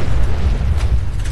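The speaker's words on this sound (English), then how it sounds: "Hell of an explosion there." Explosion in the game Fallout 4, a short loud low rumbling boom with sustained blast roar and no talking.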